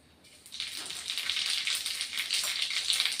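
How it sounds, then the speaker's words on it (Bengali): Cumin seeds dropped into hot oil in a wok for a Bengali mutton curry, giving a steady, close crackling sizzle that starts softly and swells after half a second, then holds bright and busy with no talking. "এক চামচ জিরে ফোড়ন দিলাম"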